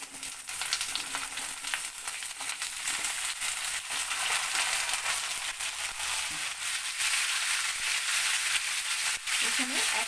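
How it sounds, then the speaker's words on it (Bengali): Mixed vegetables with garlic and onion frying in a pan, a dense, steady close sizzle with occasional stirring clatter and no talk. "এখন আমি সবগুলো সবজি এখানে দিয়ে দিচ্ছি।"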